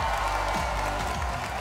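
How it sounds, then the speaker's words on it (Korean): A television studio audience on a Korean music show gives a round of applause, a dense continuous wash of clapping, fairly loud and steady, with low background music pulsing beneath. "박수 부탁드립니다."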